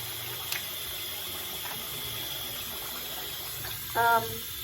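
Tap water runs steadily into a sink or bowl of water during makeup brush cleaning, a constant hiss in the background, with a brief clatter near the end.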